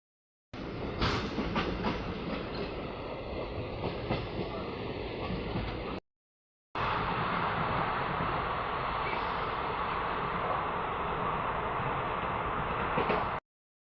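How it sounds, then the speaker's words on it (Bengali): Kharagpur–Hatia Express 18035 rolling out of Kustahat station, a loud, steady rumble of wheels on rails heard from inside the coach, broken by one brief gap before the same roar resumes. "সো ফাইনালি আমাদের কুস্তাহাট থেকে ট্রেনটি ছেড়ে দিয়েছে।"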